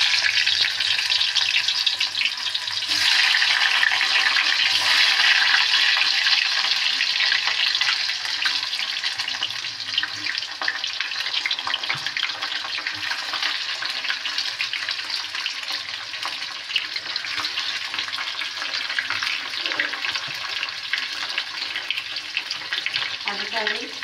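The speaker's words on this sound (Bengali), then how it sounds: "গরম হয়ে গেছে, তেলের মধ্যে দিয়ে দেবো এই যে আলু।" Potato pieces drop into hot oil and fry with a loud, close, steady sizzle that eases a little after the first few seconds and carries on unbroken, with faint clinks near the end.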